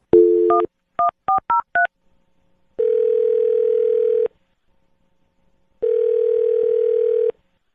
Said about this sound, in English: I'm going to dial this phone right now